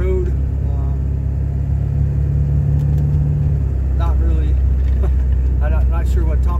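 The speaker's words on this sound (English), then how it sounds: "driving down the road." A car driving down the road gives a steady, loud engine rumble and road drone throughout, with someone talking over it.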